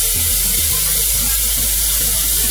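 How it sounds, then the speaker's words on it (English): Tap water runs loudly and steadily into a pot holding cleaned chicken for boiling soup, a close, continuous rushing splash that cuts off abruptly at the end, with no talking. "Now I'm going to add water"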